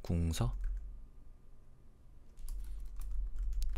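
Computer keyboard keys pressed during Photoshop work, a few sharp clicks at the start followed by a quieter stretch and then a scattered run of light taps, close and crisp, with no one speaking.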